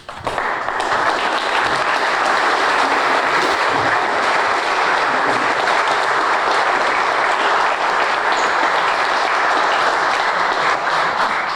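An audience at an annual sandlot baseball reunion gives a round of applause, dense steady clapping that holds loud and unbroken for the whole stretch, with no speech.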